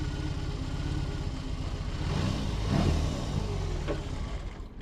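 A heavy 2022 BMW R18 cruiser motorcycle rolls to a stop, its engine rumbling steadily up close with a brief swell in revs near the middle before easing back to a low idle.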